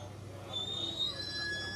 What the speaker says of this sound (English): He's got some squeaky brakes.